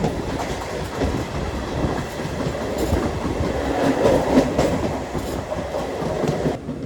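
A passenger train runs steadily on the line from Tirupati toward Kanchipuram, with a continuous rumbling roar of wheels and carriages and faint rhythmic clatter, no voices over it.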